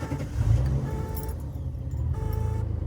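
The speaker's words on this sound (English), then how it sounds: "we're taking this lovely, beautiful Datsun Z for a test drive" A 1978 Datsun 280Z sports car engine idles with a throaty, pulsing rumble up close, rising briefly before settling into a steady rhythmic throb.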